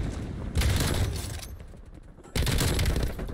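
Automatic gunfire in the video game Call of Duty Black Ops Cold War comes in two dense, rapid bursts separated by a brief lull, moderately loud and close.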